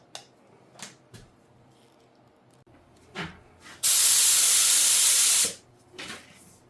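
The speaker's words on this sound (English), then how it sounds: "we'll start spraying this" A sustained burst of paint spray gun hiss at 20 psi runs steady for about two seconds, loud and close, after a few quiet clicks and handling noises.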